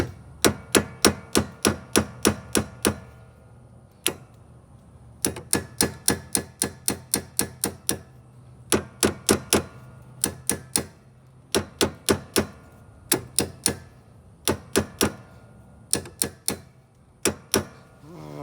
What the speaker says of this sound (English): Got my old trusty hammer.